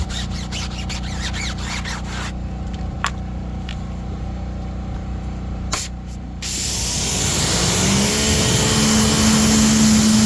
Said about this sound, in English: Let's go ahead and go for this final rinse.